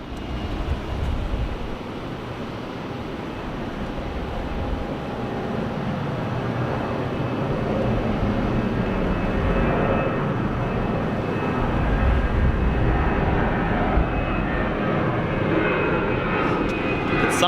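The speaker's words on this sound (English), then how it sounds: "And there's a Qantas A380." A Qantas Airbus A380 airliner at Sydney Airport gives a steady, loud jet engine roar that swells slightly and holds throughout, broad and rumbling with no talk over it.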